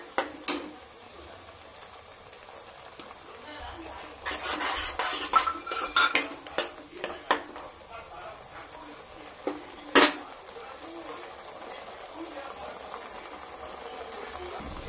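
Sprouted moong frying in oil in a pan, with a soft steady sizzle and bursts of spoon scraping and clattering against the pan in the middle, then a sharp knock before the stirring eases.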